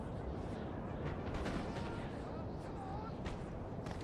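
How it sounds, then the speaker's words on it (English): Opening musket salvos in a Napoleon Total War online battle, dull distant volleys rumbling under a continuous layer of talk and battlefield noise. "First salvos of the game."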